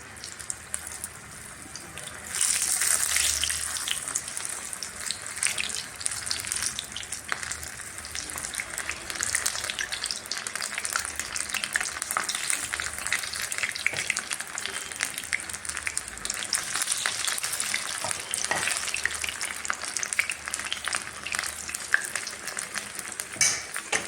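Spoonfuls of sweet pumpkin bonda batter deep-frying in hot oil over a high flame, a steady, close crackling sizzle that holds for the whole stretch with small bubbling bursts.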